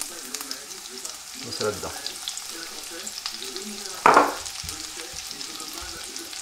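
Shallot or onion and a garlic clove frying in butter with a little olive oil, a steady close sizzle with a sharp burst as the aromatics hit the pan, under someone speaking French.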